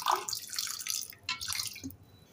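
Water pours into milk in a pan with short splashy trickles and drips, faint and close, in a couple of brief bursts.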